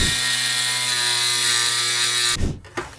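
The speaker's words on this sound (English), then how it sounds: "I'm gonna go to the grinder and I'm gonna steal just a little bit more material from here so that it fits perfect" An angle grinder trims a shower tile with a loud, steady, high whine for over two seconds, then cuts off and winds down, followed by a couple of brief clunks.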